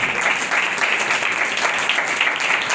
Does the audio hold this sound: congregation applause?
yes